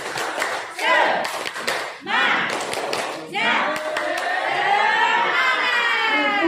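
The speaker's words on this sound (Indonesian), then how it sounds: "Saya mau tes. Tepuk semangat." A group of adults at a teacher training session in Batam performs a rhythmic clapping chant, voices chanting loudly in unison with sharp claps cutting through in bursts.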